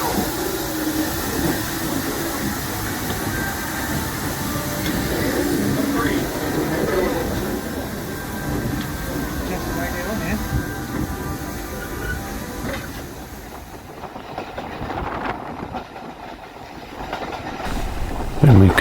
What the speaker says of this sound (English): Train arriving for Hampton Road and Bridge North. Keep well back from the edge of the platform, please.